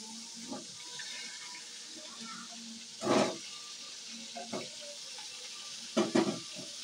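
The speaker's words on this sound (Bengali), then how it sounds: "তেল গরম হয়ে গেছে, ফুলকপিগুলো ছেড়ে দিচ্ছি।" Steamed cauliflower florets fry in hot oil with a steady soft sizzle, broken by several louder scraping stirs and pan clatters, close and without talk.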